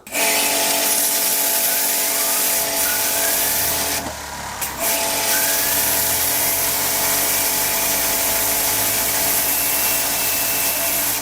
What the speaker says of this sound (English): let's try the pressure washer with some hydropower